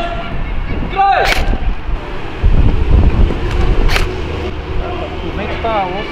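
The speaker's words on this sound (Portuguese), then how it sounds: "O vento tá osso" Strong wind buffets the microphone outdoors during an airsoft game, a steady low roar with gusty surges throughout, while voices and brief sharp clicks and pops cut through.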